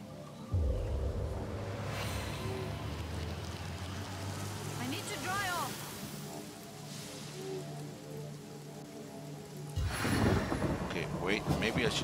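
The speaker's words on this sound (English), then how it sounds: "I think it's time for rain." A rain spell in the game Divinity Original Sin brings a steady wash of rain pattering on surfaces, with a deep rumble that swells again near the end, while a voice talks faintly.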